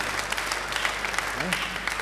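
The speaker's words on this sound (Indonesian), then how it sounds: "Beri tepuk tangan yang baik buat dia." Applause from a church congregation during a worship service, a steady wash of clapping with a voice faintly audible beneath it.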